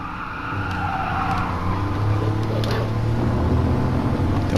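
A Porsche 911 930 on the Nordschleife in the GT Sport video game, engine droning loudly while the tyres squeal and skid as throttle rotates the car through a corner.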